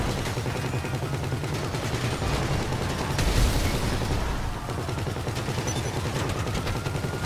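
Dense, continuous gunfire from the video game GTA 5 Online plays loudly and without letup, with rapid automatic bursts merging into a steady clatter and a heavier boom in the middle.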